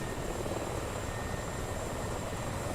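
A Mi-24 attack helicopter in a video game, armed for air-to-air combat, drones with a steady, dense rotor and engine roar that holds even and unbroken throughout.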